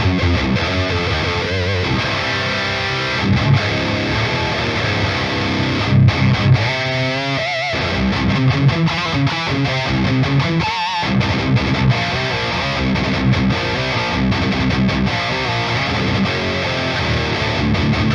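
Heavily distorted electric guitar through an amp simulator with Vintage 30 speaker impulse responses plays loud, thick chords and riffs continuously, with a saturated, compressed tone and short pauses between phrases.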